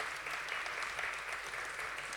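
Applause at a talk for speaker Luz Avruj, a faint, steady patter of many hands clapping from an audience, with no voices over it.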